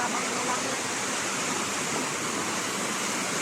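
Tuenwan Falls roars as a broad, constant rush of falling water, loud and close, steady with no breaks.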